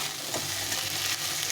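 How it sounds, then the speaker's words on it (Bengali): Chickpea chaat being fried and stirred with tomato ketchup in a pan, a steady close sizzle with faint scraping, no voices. "এটাকে আবার একটু ভাজতে হবে"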